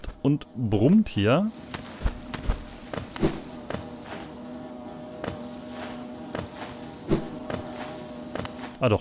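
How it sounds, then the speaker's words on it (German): Insects buzzing in the Hollow Knight video game, a steady droning hum running throughout with soft thumps and game effects on top, and a brief voice-like burst at the start. "Es summt und brummt hier."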